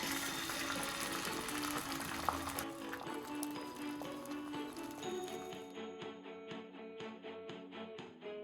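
An egg frying in hot oil in a pan for a Ghanaian breakfast gives a loud, continuous crackling sizzle that drops suddenly to a softer, thinner hiss partway through and continues quietly.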